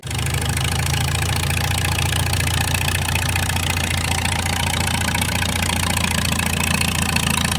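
A restored 1941 Farmall M tractor engine idles steadily and evenly, with a deep, continuous chugging rumble that stays loud and close throughout, with no voices.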